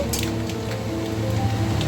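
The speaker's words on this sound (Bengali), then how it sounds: "দেখুন সর্ষে ফোড়নটা ফুটছে" Mustard seeds spluttering in hot oil as a tempering for a vegetarian banana stem (thor) dish, giving a steady crackle with scattered sharp pops throughout, close and moderately loud, no voices.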